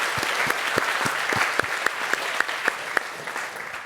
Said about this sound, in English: Round of applause for Shane,